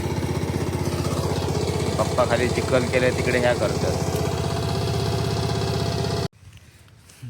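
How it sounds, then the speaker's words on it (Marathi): A tractor engine runs in a muddy, waterlogged paddy field, a loud steady rumble close by that stops abruptly near the end, with a person talking over it. "आता वरती ट्रॅक्टर आणला"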